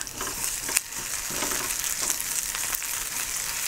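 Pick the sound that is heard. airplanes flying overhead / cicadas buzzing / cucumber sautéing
cucumber sautéing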